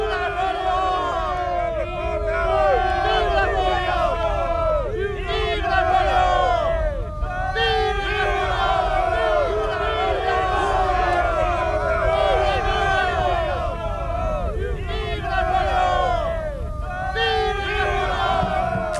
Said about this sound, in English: thousands are lighting torches, the now famous bivouac fires of Austerlitz, and cheering, "Vive la France!"